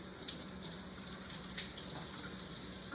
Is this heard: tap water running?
yes